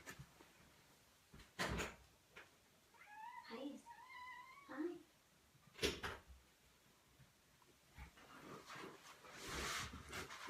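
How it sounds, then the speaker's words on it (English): A cat meows several times from behind a door while pawing at it, producing soft bumps and rattles between the faint, moderately close cries. "Oh, my cat. He's sticking his paw under the door."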